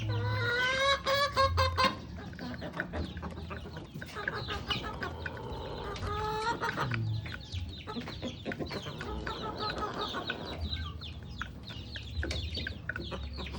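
Rhode Island Red breeding hens cluck and squawk close by in a busy, continuous chorus, with sharp louder calls early and bursts of clucking throughout.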